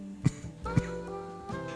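A person with a cold coughs twice into a nearby microphone, short hoarse bursts, followed by a strained breath and throat noise.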